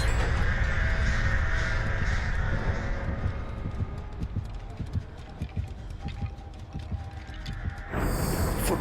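Crows caw repeatedly in a survival video game, loud and steady over a dense background of game noise with scattered clattering, ending in a burst of hiss.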